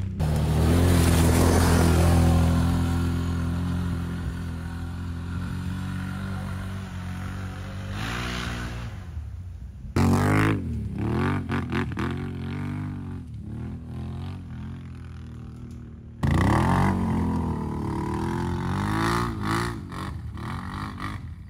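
An ATV engine revs hard and roars loudly on a freezing cold ride, falling back as the pitch sweeps down, then surging again twice in loud, close bursts with no talking.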